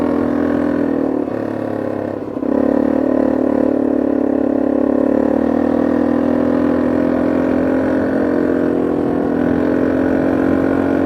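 A quad bike engine runs steadily at a mid-pitched drone while riding through city streets, with a brief dip around the throttle before the hum picks back up and holds loud and close.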